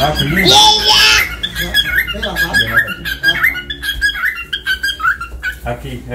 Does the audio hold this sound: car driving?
no